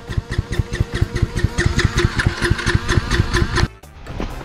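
A motorcycle engine catches after being pushed and runs in a fast, loud, rhythmic putter close by, then cuts off abruptly near the end.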